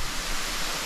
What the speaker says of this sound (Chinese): 猴洞坑瀑布吗？